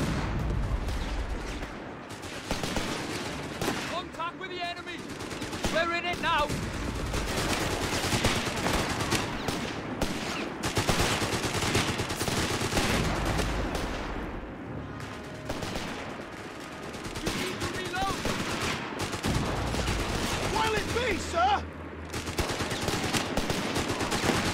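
Machine-gun fire rattles almost continuously in the World War II strategy game Company of Heroes 3, with bursts overlapping other battlefield gunfire and occasional heavier thuds.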